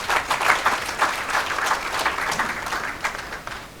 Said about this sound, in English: Can you clap for that gentleman